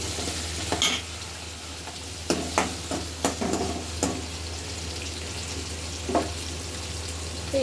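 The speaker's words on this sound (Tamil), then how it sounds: "போட்டுட்டு எல்லாத்தையும் நல்லா மிக்ஸ் பண்ணி விடணும்." Tomato and potato masala stirred in a pan, a steady sizzle of frying under scattered scraping clicks of a spoon against the pan, with a low background hum and no talking.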